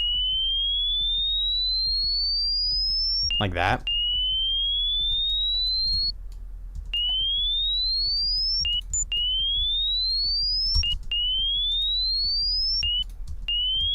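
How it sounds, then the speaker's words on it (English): Bright, high-pitched synth tones for a deathstep track, a string of rising chirps that repeat every couple of seconds over a low, steady bass bed, with one short noisy burst early on; a brief spoken remark sits faintly in the background. "And I just want something really high pitched, and I'll fix it up."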